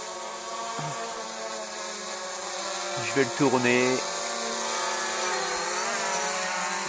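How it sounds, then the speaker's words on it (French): Small toy quadcopter drone with buzzing propellers descending in flight, a steady harmonic whine throughout with pitch shifts as it moves, while someone speaks briefly over it. "Il redescend assez vite notre drone."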